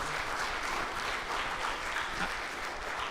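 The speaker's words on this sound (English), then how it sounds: "Give them a round of applause." Audience applause at a community meeting on water and flooding, continuous dense clapping from a room full of people, steady and moderately loud throughout.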